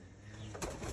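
Racing pigeons coo softly inside a loft, with a brief burst of rustling midway through the short moment.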